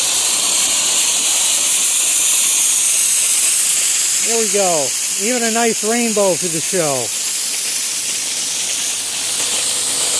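Compressed air rushing out of inground sprinkler heads during a winterizing blowout, a loud continuous hissing spray filling the whole clip, with someone talking over it midway.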